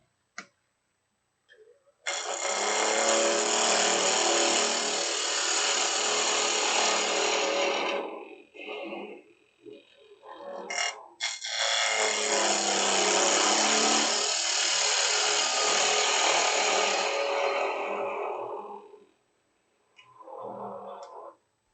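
A wood lathe hollows out a three-corner wooden box in two long, loud, harsh cutting passes split by a brief break, and a softer scrape comes near the end with no talking.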